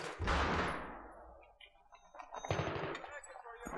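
Automatic weapons fire in Battlefield 3 on the Ziba Tower map, with a loud close burst that decays, then scattered quieter shots and rattles over a fainter background.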